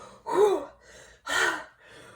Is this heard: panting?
yes